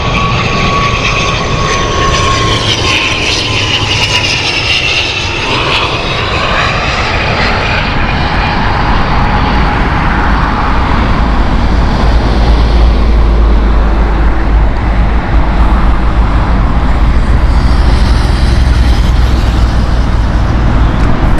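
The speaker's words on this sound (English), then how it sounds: "it is so nice to see an ATR here and a turboprop at" An ATR turboprop airliner at Heathrow Airport passes with a loud, continuous engine roar and propeller drone throughout, the pitch shifting as it moves, with no talking.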